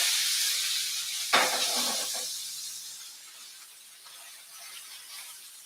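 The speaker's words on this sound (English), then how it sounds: "You want to be able to hear that sizzle constantly going through." A Chateaubriand steak sizzles in a red-hot pan over medium-high heat, a broad steady hiss with a sudden sharp flare that fades gradually.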